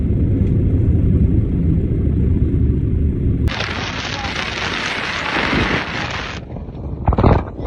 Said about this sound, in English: I'm just going to go outside and see how windy it is.